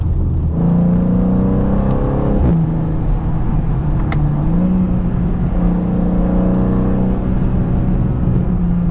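A BMW M2 engine drones loudly and steadily while accelerating on the road, its pitch rising and dipping slightly as throttle changes, with no talking.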